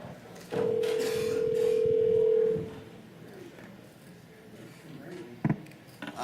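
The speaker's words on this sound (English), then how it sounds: "Dr. Buck, I'm trying to dial him in now" A telephone dial tone sounds for about two seconds as a participant is dialed into a board workshop meeting, followed by quieter room noise and a couple of brief clicks.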